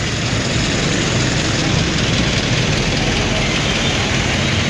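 An old diesel jeepney engine drones steadily and loudly in the Philippines, a rough, rumbling low roar with constant noise on top and no pauses.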